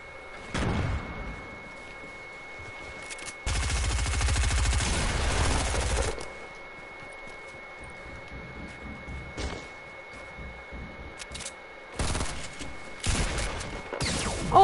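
Bursts of gunfire in the video game Fortnite, with a long sustained volley in the middle and shorter loud bursts near the end, separated by quieter stretches of game ambience.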